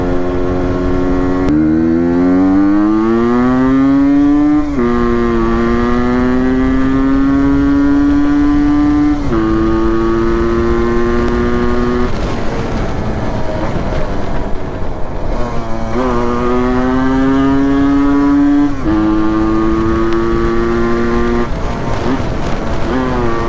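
A Yamaha RX 135 two-stroke motorcycle ridden on a morning highway run, its engine note rising and falling loudly through repeated gear shifts and accelerations, with steady wind and road noise throughout.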